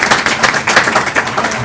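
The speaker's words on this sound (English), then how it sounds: "Let's give them all another round of applause." Applause from an audience at a school board meeting, a steady, dense patter of many hands clapping close by with no voices over it.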